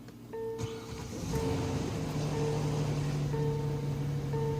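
A 2014 Kia Cadenza engine turns over and settles into a steady, smooth idle close by, with a few faint chime tones over the running engine.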